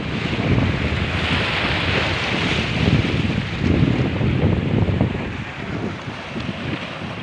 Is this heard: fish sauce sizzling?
no